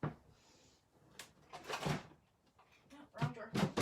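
Drawer opened and closed with a few quick sliding and knocking sounds nearby, mixed in with someone talking.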